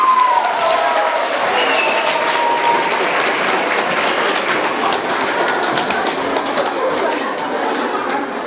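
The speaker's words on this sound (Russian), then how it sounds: "Проводим их громкими аплодисментами" At a school Teachers' Day event for second-grade classes, a hall full of people claps loudly and continuously for over eight seconds, a dense even roar of hands.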